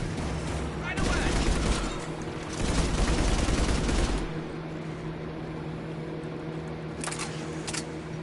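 Anti-aircraft guns firing in a video game, heavy bursts of rapid fire arriving in two loud stretches with a lower rumble of battle between them and a few sharp cracks near the end.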